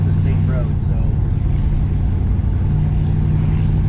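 A 1964 Dodge Polara 500 engine pulls steadily uphill as a low, constant drone right up close, with faint voices now and then over the rumble.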